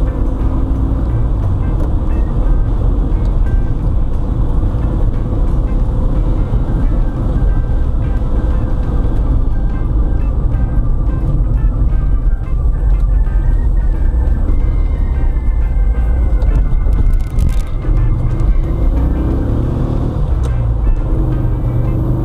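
A 1972 VW Karmann Ghia with a 1600 engine and a grabbing clutch drives on a test run, its engine droning loudly and steadily from start to end with road and wind noise.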